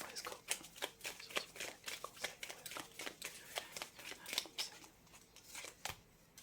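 Tarot cards being shuffled to draw an advice card, a steady run of crisp riffling flicks repeating for several seconds, close and clear with no talk over it.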